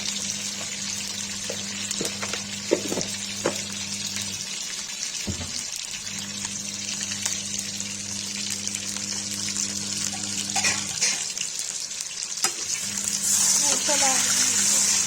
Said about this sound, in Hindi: बैगन फ्राई हो गया